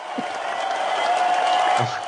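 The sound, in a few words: applause sound effect played on podcast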